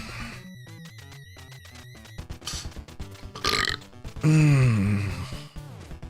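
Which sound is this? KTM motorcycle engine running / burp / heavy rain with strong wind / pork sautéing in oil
burp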